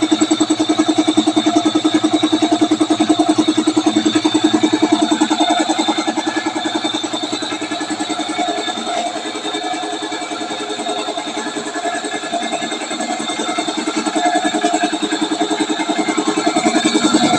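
A carwash vendo air compressor runs steadily while filling its tank, a loud, continuous mechanical hum with a fast pulsing chug, unchanging and close, with no voices over it.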